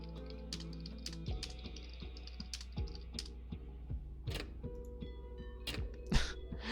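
Fingers tap a computer keyboard in quick irregular bursts of clicks, close and fairly quiet, alone over a low steady hum.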